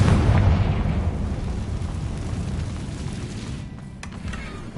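The Confringo explosion spell in the video game Hogwarts Legacy sets off a loud, rumbling blast that booms at the start and then slowly decays into a long roar, with a few small crackles near the end.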